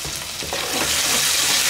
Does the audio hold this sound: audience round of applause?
no